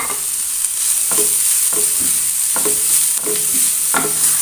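Chopped cabbage sautéing in a pan, a steady bright sizzle with repeated scraping stir strokes about every half second, close and loud with no talking.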